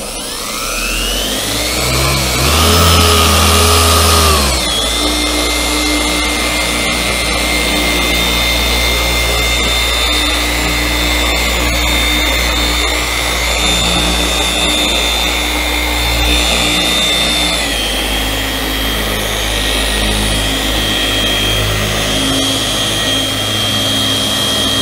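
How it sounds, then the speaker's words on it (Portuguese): An orbital car polisher buffs black car paint, a loud steady motor whine that pitches down briefly at the start, then settles into a constant drone for the rest of the clip. "eu vou remover a pressão, vou apenas apoiar a politriz"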